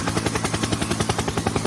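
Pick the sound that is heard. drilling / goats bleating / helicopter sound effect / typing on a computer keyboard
helicopter sound effect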